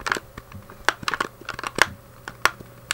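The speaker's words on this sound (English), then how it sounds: "I don't know if you can hear the clicky clacky of the pad" Plastic buttons on an Atari Jaguar joypad clack in quick irregular presses, held close to the microphone during a Cannon Fodder session, sharp clicky taps scattered over a faint game backdrop.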